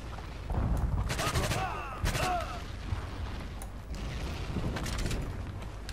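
Heavy cannon fire in the Medal of Honor war game, a series of booming blasts and gunfire bursts at irregular intervals against a busy battlefield background, with someone talking over parts of it.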